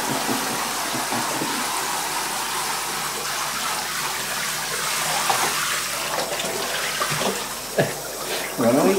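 Steady tap water gushes into a bathtub while a cat is being bathed, a continuous broad rush with brief splashes and small disturbances near the end, under faint talk.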